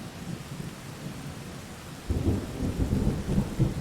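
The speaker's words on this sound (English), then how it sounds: "That looks like pre-cycle rain." Steady rain hiss with a deep thunder rumble building midway, from the pre-cycle downpour in the video game Rain World, loud and continuous with no voices.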